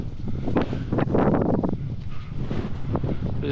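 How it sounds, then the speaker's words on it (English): A strong north wind on a hot summer morning walk buffets the microphone in heavy, rumbling gusts that swell and fade steadily for a few seconds, with no voices. "It's very windy today."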